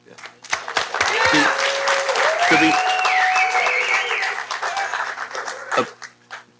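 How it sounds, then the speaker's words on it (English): Clapping from the audience at a school board meeting runs in a steady burst, joined by cheers and overlapping voices. Sharp separate claps stand out at the start and end. "there was some clapping going on, which is great"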